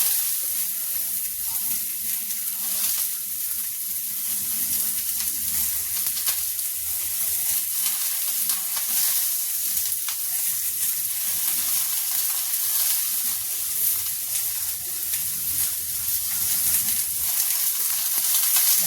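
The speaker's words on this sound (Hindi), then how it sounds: "इतने ही आलू डालेंगे, और ये प्याज के साथ साथ इसको भी भूनेंगे।" Potatoes and onion fry together in a pan, giving a steady, close sizzle that holds evenly for the whole stretch with no voices over it.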